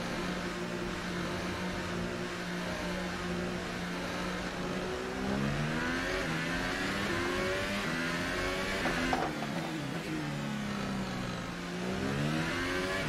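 A McLaren Formula 1 car engine in the video game F1 2018 at Monaco whines continuously, its pitch rising and falling through gear shifts and revving, loud and close throughout.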